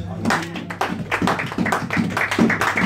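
A church congregation at an evangelistic crusade claps in a steady rhythm to acclaim the Lord, with voices singing or speaking over the clapping.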